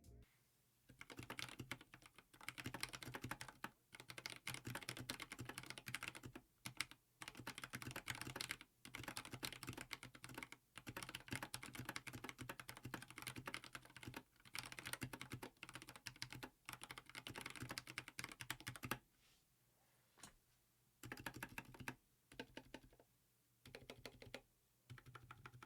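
Rapid, steady typing on a modded mechanical keyboard fitted with Akko Jelly Blue tactile switches and a silicone pour, dense keystroke bursts running close and clear for the whole stretch, with a few short pauses and no talk.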